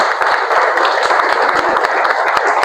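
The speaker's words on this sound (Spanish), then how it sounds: "Un aplauso de bienvenida para la señora Felicita" Applause from a church audience welcoming a woman guest named Felicita, newly arrived from Venezuela; a dense, steady wash of many hands clapping at close range, continuous and fairly loud throughout.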